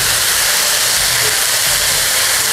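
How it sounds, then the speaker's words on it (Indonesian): Tofu skin stir-fried in a hot wok for a Chinese restaurant-style dish gives a loud, steady hiss of sizzling that holds without a break throughout. "Kita tumis sebentar kembang tahunya sampai panas."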